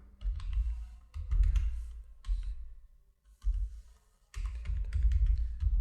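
Computer keyboard keys tapped in quick bursts while a vehicle number is entered into Tally Prime invoicing software, with clicks clustered in several runs separated by short pauses, close and moderately loud.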